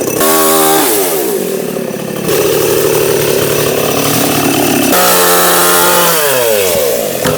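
A chainsaw cuts down a partly dried tree that still holds some green, its engine revving and bogging loudly and steadily through the cut with no talk over it.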